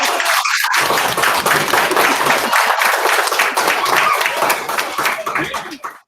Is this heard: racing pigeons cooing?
no